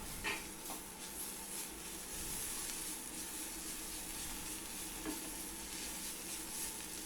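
Eggplant sautéing with salt in a pan, a steady soft sizzle running throughout with occasional light stirring scrapes, close and even in level, no voices.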